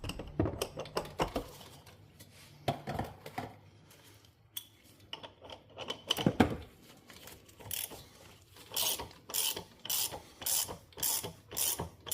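A hand ratchet clicks steadily as it tightens the oil filter housing on a BMW M2 G87. The clicking comes in close bursts of quick pawl ticks, with metallic tool clatter mixed in and no talking.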